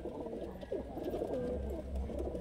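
A male pigeon coos close by in soft, low, rolling calls over a steady background hum.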